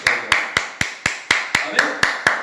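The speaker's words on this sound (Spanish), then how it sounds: "Dele palmas al que vive y reina" Congregation clapping for the Lord during a church service, ten sharp, evenly spaced claps in a steady rhythm lasting a couple of seconds, loud and close with no talk over them.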